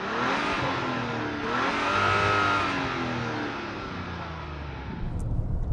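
A 2025 Mazda CX-70 SUV driving past outside, its engine note building and revving steadily for several seconds before settling, with a continuous road roar throughout.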